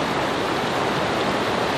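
A powerful waterfall in Iran, roughly ten metres high and fed from high mountain ranges, gives a dense, steady, loud roar of falling water with no other sound.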